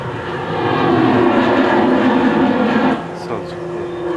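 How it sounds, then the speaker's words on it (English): The White Knight aircraft makes a low pass at the 2004 Oshkosh airshow, a loud, broad engine roar that swells, holds close overhead for a few seconds and then eases off as it passes. "White knight saluting the airplane. Low pass."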